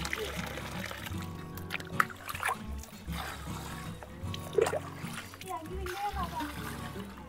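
Goat tripe being washed by hand in water for a village-style curry, giving intermittent splashes and trickles under ongoing talk, with a voice also present.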